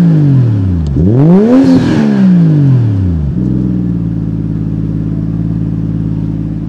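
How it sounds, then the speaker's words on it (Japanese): Close, loud Toyota JZX110 Mark II iR-V engine gives one strong rev that rises and drops, then settles back into a steady, rumbling idle. "じゃあちょっとアクセル吹かしてみましょうか。"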